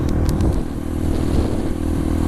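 A Honda CRF supermoto motorcycle rumbles loudly while riding, a rough continuous engine roar mixed with wind buffeting and a few brief rattling clicks early on.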